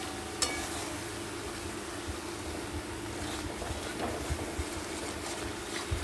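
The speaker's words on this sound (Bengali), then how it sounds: "এবার এটাকে আরও সুন্দর করে আমি কষিয়ে নেব।" Spices and masala of chili powder, cumin-coriander powder, turmeric and salt frying in a pan, a low, steady sizzle with occasional faint scrapes, heard alone.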